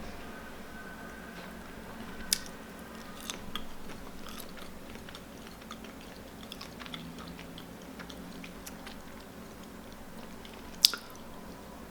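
Oven-roasted ice cream bean seeds being chewed up close, soft squishy mouth sounds with a few sharper bites scattered through a quiet stretch, no talking.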